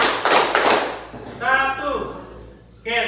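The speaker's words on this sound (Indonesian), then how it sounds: "Tepuk 1, tepuk 2, tepuk 3" A school class at SMPN 9 Satap Dompu claps on a counted cue, dense bursts of many hands striking in quick rhythmic groups, with voices chanting along between them.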